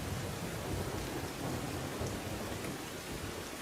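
Heavy monsoon rain pours down in Gujarat, a dense, constant roar of drops on surfaces with a low thunder rumble underneath, steady throughout.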